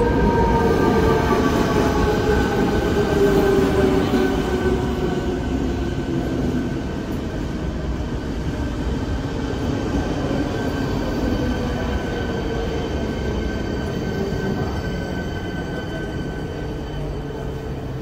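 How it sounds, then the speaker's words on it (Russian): A Czech CityElephant double-decker passenger train passes close by, a loud steady rumble of wheels on rails with a tonal whine that slowly fades as it rolls away. "А этот поезд называется City Elephant. Это двухъярусный, двухэтажный поезд."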